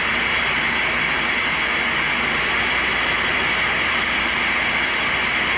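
A 6-inch, 100-grit diamond saw wheel cuts a damaged carbide endmill, giving a steady, loud grinding hiss and whine that holds unbroken from start to finish.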